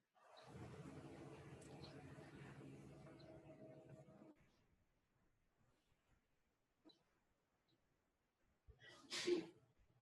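A faint, muffled sneeze sounds from a distance after a stretch of low background noise and quiet.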